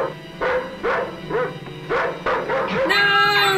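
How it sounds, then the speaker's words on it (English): A dog barks repeatedly in a 1972 horror film scene, about eight rhythmic, fairly loud barks with a yelping edge over background, followed by a shrill higher sound at the end. "I heard the dog."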